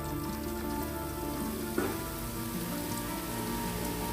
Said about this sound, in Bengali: এভাবে আমি সবগুলা ভেজে নিব।